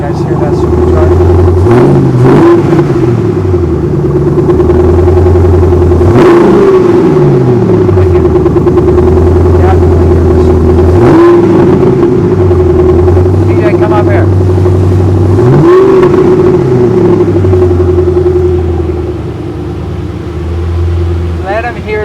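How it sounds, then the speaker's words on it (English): A supercharged Roush car engine revving repeatedly through several rising and falling surges, loud and close, with a high supercharger whine riding over the rumble. "You guys hear that supercharger?"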